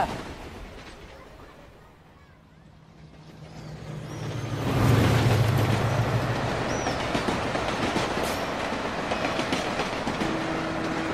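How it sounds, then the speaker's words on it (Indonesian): A train rumbles into a station, swelling from a low distant drone to a loud, close roar with rattling wheels, clattering and squeals as it passes. "kereta api patas akan segera masuk"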